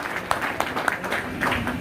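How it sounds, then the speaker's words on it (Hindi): An audience claps for a former block chief at a community gathering, giving brief scattered applause with a few sharp claps standing out, moderately loud. "इनको चाहूंगा एक बार और पुनः ताली बजाइए"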